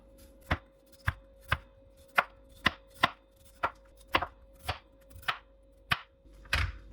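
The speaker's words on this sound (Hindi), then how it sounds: "ये देखें जी, आलू के भी इस तरह पीस कर लेने।" A knife chops potatoes into pieces on a cutting board, about a dozen sharp, evenly spaced knocks close by, with no talking.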